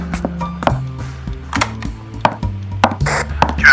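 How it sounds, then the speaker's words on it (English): A door is locked in an audio horror drama, heard as a series of close mechanical clicks, rattles and latch clunks with a final louder scrape, and no talking. "Lock the door."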